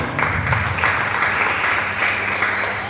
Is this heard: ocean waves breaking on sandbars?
no